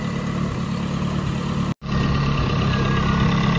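Toyota Corolla 4AGE Silvertop engine idling steadily under rewiring work, with a fuel pump jumpered from the supply; a loud, close, continuous rumble with one abrupt momentary cutout partway through.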